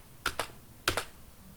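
Computer keyboard struck in two quick pairs of keypresses while entering program code, close and crisp in a quiet room.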